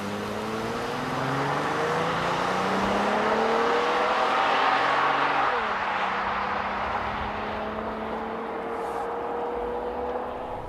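2014 Honda Pilot AWD accelerating hard from a standstill to 60 mph, engine note rising through several gear changes with a steady roar and wind noise, heard from inside the cabin.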